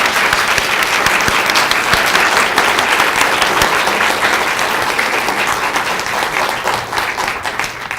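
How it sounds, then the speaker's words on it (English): A crowd at a student poetry recitation contest and awards presentation gives a loud, sustained round of applause that fills the whole stretch and fades only slightly toward the end. "Let's give them a collective round of applause as we end the contest"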